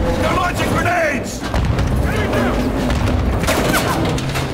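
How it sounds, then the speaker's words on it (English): Grenade explosions in the shooter game Call of Duty: Modern Warfare 2 thud and boom amid scattered gunfire, dense and continuous, with players talking excitedly over the battle. "They're launching grenades!"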